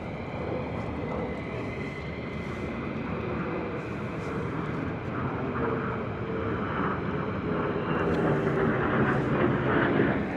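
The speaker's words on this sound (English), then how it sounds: "May or may not have another crew of F-35s coming back over shortly." US Air Force F-35 fighter jets passing over RAF Lakenheath, a broad, continuous jet roar that builds gradually and grows loudest toward the end, with wind buffeting the microphone.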